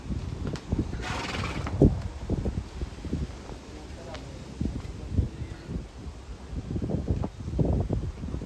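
A Kathiyawadi mare from the Panchal region neighs near her young filly, with shrill whinnies and a few soft hoof clops outdoors. Wind buffets the microphone and people talk nearby.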